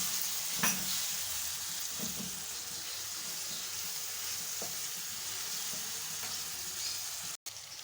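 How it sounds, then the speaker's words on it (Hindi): Lemon juice splashing into a pan of sizzling green chilli fry with ground dried mango, a steady close hissing fry with a few brief clinks and taps, no talking. "अब हम इसमें ये लेमन जूस ऐड कर देंगे।"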